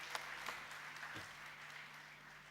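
An audience applauds a panel at a film industry event on making a 1,000 crore blockbuster, steady, dense clapping from a crowd in a hall, sustained at moderate level throughout.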